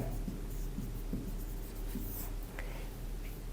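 A pen scratches across paper while a math solution is written out, giving soft, rapid, close strokes in an irregular rhythm for a few seconds, alone and fairly quiet.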